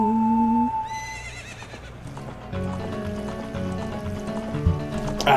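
Epona, the horse in the video game The Legend of Zelda: Ocarina of Time, gives a loud whinnying neigh at the start, followed by layered game music and faint hoof clip-clops.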